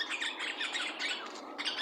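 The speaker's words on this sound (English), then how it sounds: "I guess I live in a tropical bird oasis." A red tropical bird calls in a quick run of high, bright chirps and tweets, fairly faint and close together, with no talking.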